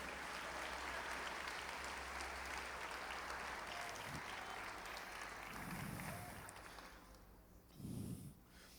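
Church congregation applauding, a steady roomful of clapping that gradually thins out, with a couple of breathy snort-like sounds close by near the end.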